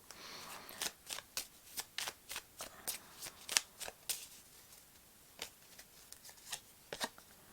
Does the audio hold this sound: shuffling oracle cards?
yes